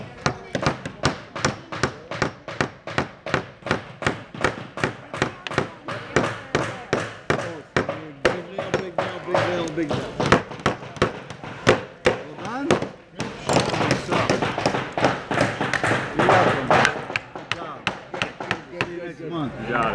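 At a Home Depot kids workshop, repeated hammer blows strike big nails into wood in a quick, steady rhythm of sharp, close knocks, with brief pauses between bursts.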